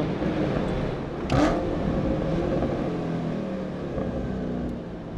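A high-revving Ford GT engine roars and pulls hard as it accelerates to around 5000 rpm on a straight, loud and continuous with a brief sharp burst early on.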